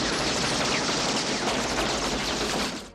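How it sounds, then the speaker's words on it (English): Sustained automatic gunfire from a movie shootout, a dense continuous roar of rapid shots lasting a few seconds, loud and close, fading slightly at the end. "escape machine gun fire by simply ducking down"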